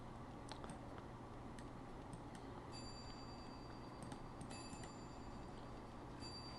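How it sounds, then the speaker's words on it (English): A grandfather clock ticks steadily and rings faint, sustained high chimes in the background of a quiet room. "if you could hear that chime in the background, that was the grandfather clock"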